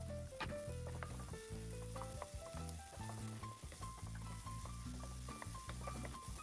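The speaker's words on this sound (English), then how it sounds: "Into the wok over medium-low heat with half a tablespoon of avocado oil. Sauté our aromatics," Garlic, onion and ginger sautéing in a little avocado oil in a wok over medium-low heat, a steady close sizzle with scraping stir strokes throughout, mixed with a bright tonal background.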